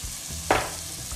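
Shrimp hit hot dendê palm oil in a pan, giving one brief burst of sizzling frying that quickly settles into a soft hiss over a low background hum.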